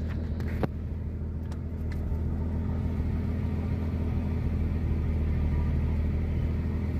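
A Jeep Comanche drivetrain runs with the drive shaft spinning after leaf spring and rear axle work, thick gear oil in the axle. It gives a steady, low engine rumble that swells slightly over several seconds, with a couple of faint clicks early on.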